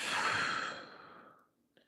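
One long, audible exhale during a guided breathing exercise, a close breathy sigh that fades to near silence.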